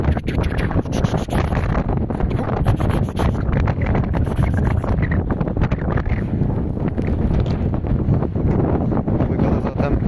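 Strong winter wind buffets the microphone continuously outdoors by a dog's kennel, producing a loud, rumbling roar with gusty surges and faint rustling in the background.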